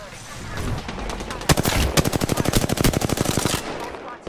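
Automatic weapon fire in Apex Legends: a rapid, evenly spaced burst of close, loud shots lasting about two seconds, preceded by a few heavier single blasts over background game noise.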